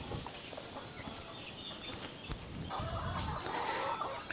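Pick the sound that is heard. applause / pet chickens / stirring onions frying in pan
pet chickens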